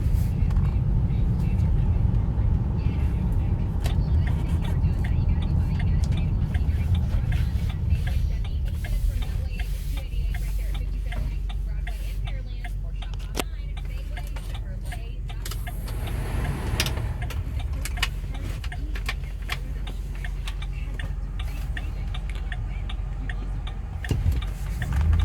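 A 2007 Ford Explorer Sport Trac V8 4WD cruises at highway speed, with a steady low engine and road rumble inside the cabin, some light ticking and bumps, and someone talking over it.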